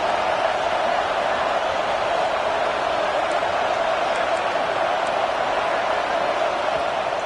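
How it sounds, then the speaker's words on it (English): Home crowd at a Florida State vs Michigan college football game roars on a third down, a dense sustained stadium wash of cheering and noise with faint whistles near the end, steady and loud throughout. "Big noise, big house, trying to rile up this Michigan defense on third down."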